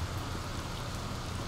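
Rain in the video game The Medium falls as a constant, enveloping hiss with a low rumbling undertone, steady and fairly loud throughout, with no speech.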